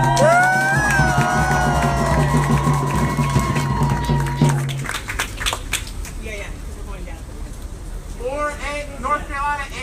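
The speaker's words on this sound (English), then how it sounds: "Can we give them a cheer for..." A crowd at an event in Greensboro, North Carolina cheers and whoops loudly, blending with an announcer's amplified voice and music before settling into scattered shouts and chatter.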